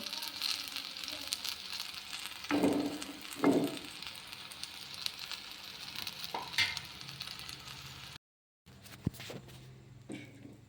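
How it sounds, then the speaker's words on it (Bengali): Banana pitha cakes fry in oil in a wok with a low, steady sizzle, broken by a few louder crackling bursts as pieces are turned, then a brief silent gap before the quiet frying resumes. "আবারও কড়াইতে তেল দিয়ে পিঠাগুলো দিয়ে ভেজে নেব।"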